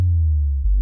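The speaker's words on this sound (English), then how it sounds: "This was my original bass line." A grimy synth bass line plays as one deep sustained note with a gritty edge and a slight wobble near the end, lasting under a second, loud and alone.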